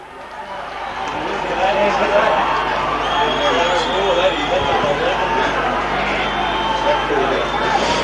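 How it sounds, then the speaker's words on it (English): Mazenod supporters roar at an amateur Australian rules football grand final. A dense crowd din swells and holds steady for the whole stretch, with a commentator talking over it. "The Mazenod crowd absolutely fired up at the moment"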